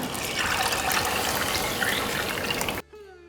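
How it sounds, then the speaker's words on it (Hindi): Water poured into a pot of soaked basmati rice for ghee pulao, a steady, dense splashing rush that runs close and fairly loud for nearly three seconds, then stops abruptly into quiet. "अब डालेंगे इसमें पानी"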